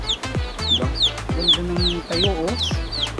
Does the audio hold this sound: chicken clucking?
yes